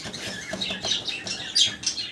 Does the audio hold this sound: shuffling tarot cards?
no